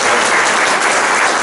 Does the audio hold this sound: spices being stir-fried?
no